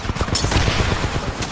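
Turret gunfire in Titanfall 2: a rapid, sustained stream of loud close shots with a fast regular rhythm, running without pause through the short clip.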